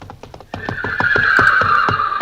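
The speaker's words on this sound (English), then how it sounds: "Hey, Harlow, that's a horse." A horse whinnies loudly over rapid clip-clopping hooves, the galloping beats starting faintly and then driving on in a quick, even rhythm beneath the drawn-out neigh.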